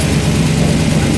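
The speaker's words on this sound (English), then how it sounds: "it sounds like a warmed over big block" A big block engine in a classic Tri-Five car runs with a steady, loud, deep rumble close by, with no talk over it.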